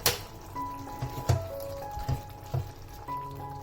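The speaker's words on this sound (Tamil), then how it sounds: "இப்போ பாருங்க, நல்லா கொதிச்சிட்டு இருக்கு." Potato masala for poori bubbling and simmering in a covered pan, a soft steady bubbling texture with occasional lid rattles and small pops, close and fairly quiet.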